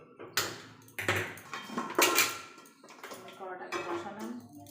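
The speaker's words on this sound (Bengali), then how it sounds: "কড়াটাকে বসালাম," A metal wok is set down on a gas stove with several clanking knocks of pan against burner grate, followed by smaller scraping and tapping of kitchenware, close and moderately loud, with no talk.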